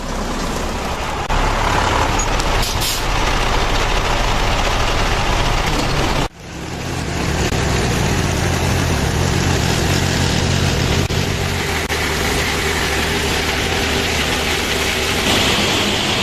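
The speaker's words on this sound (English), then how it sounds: "The truck drives right over this here pit." Truck engine idling at a walnut hauler pit, a continuous loud rumble with a brief dropout partway through before the steady drone resumes.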